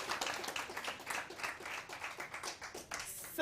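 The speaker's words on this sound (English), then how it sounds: "Let's give her another round of applause." Audience applause at a women in business conference, a short burst of steady clapping from a room of people, moderately faint and continuous until near the end.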